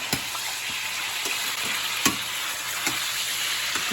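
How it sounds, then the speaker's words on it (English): Meat searing in a hot pan for Italian Sunday gravy, a steady close sizzle and crackle throughout with a few sharp spatters and stirring knocks, no voices. "What you want to do is you want to get a nice sear on both sides."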